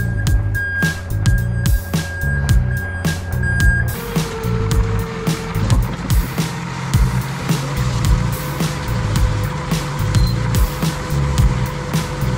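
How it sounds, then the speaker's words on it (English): Reversing beeps from a truck backing up, a steady series of regular electronic pulses over a rumbling engine, with the vehicle noise continuing after the beeping stops partway through. "You can hear the beep. It's saying we're going backwards in reverse."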